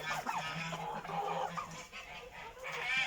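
Hens and turkeys kept together in a farm poultry pen give off soft, overlapping clucks and low calls, a busy irregular chatter that carries on steadily at close range.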